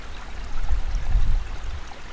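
A small stream of water flows on a Norwegian mountain hiking trail, a faint, soft, continuous trickle heard up close with no voices.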